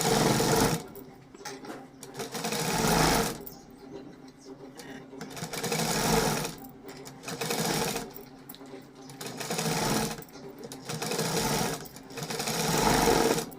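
An electric sewing machine stitches the hook strip of a small, size-28 princess-cut blouse, running in five or six rapid rattling bursts separated by short pauses, while someone talks throughout.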